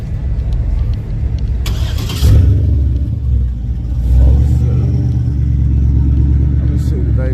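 Small-block four-cylinder race car engine at a track night, idling with a deep steady rumble that swells in short revs, loud and close, while people talk nearby.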